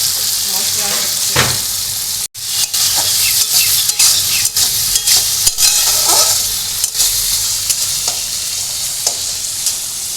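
Kalia spice paste fries in a pan for a Jamai Sasthi feast, a loud, steady sizzle broken by repeated scraping and stirring strokes from a utensil, up close with no talking.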